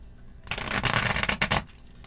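A Santa Muerte tarot deck being shuffled by hand, a short burst of riffling card flutters and soft slaps lasting about a second, close and fairly quiet.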